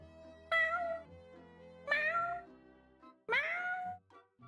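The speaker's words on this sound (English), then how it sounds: "He keeps meowing at night." A cat meows three times in a row, each call clear, loud and close, with short quiet gaps between them and no talking.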